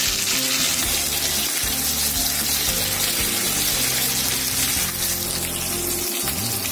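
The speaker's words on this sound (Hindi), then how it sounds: "ऐसे बराबर से चलाते हुए फ्राई करेंगे तो ये अच्छे से फ्राई होगा" Jackfruit pieces fry in a pan while being stirred, giving a loud, steady sizzle throughout with occasional scraping as the pieces are turned over.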